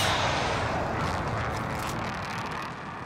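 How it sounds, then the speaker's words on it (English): Airstrike explosions in a shooter video game rumble as a dense, continuous low roar with crackling bursts, loud and sustained throughout. "Bringing down an airstrike."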